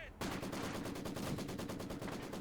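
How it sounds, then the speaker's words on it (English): Machine guns and mortars fire in Company of Heroes 2 combat, a rapid, loud and evenly pulsing burst of automatic gunfire that runs unbroken after a short lead-in. "I think mortars are hitting our machine guns"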